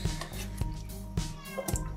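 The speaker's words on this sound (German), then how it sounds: "Und die Katzen machen da schön Krach im Hintergrund." Cats meow in the background of a home kitchen where stuffed peppers are being cooked, with several short cries rising over a steady low hum and soft clatter.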